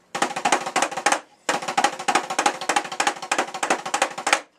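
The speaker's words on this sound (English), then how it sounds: "I'm playing this on a practice pad because this duplicates a tom-tom" Rapid drum strokes are played with Moeller technique on a practice pad standing in for a tom-tom, producing dense, even, close taps with accented hits in two bursts, a brief gap between them.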